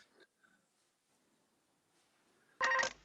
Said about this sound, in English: Phone going off in the background.